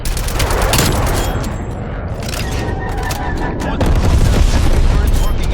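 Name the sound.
napalm strike and gunfire in Black Ops Cold War video game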